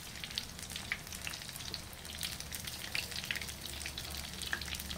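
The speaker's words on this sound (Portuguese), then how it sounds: "Vamos fritar esse set." Mussel croquettes fry in hot oil with a steady, dense sizzle and scattered crackling pops, continuous and close throughout with no voices.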